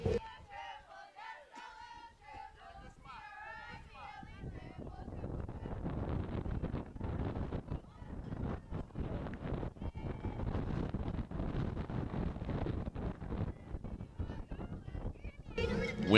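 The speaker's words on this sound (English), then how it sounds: "Wind is picking up here at the pipe yard." Strong wind gusting at an outdoor varsity high school softball field, a sustained rough rumbling roar buffeting the microphone for over ten seconds, following a brief stretch of crowd voices and calls at the start.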